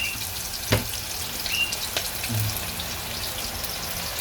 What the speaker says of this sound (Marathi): तेल उठते बघ पटापट. कांदा टाकून घ्यायचं.